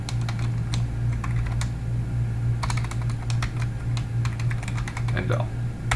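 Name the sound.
typing code on a computer keyboard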